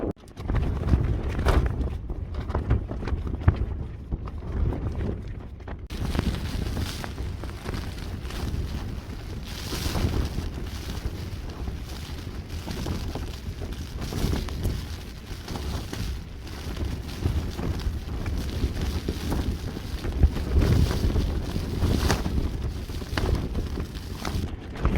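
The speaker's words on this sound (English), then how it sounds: "Wind's died down a bit now." Strong wind buffets an exposed Lanshan tent in 40 mph plus gusts, a steady loud rumbling roar with flapping fabric that persists throughout, with no one speaking.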